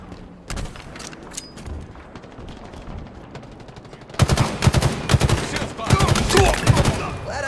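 Halo Infinite multiplayer gunfire: scattered single shots and bursts at first, then sustained rapid automatic fire with loud sharp reports, close and dense.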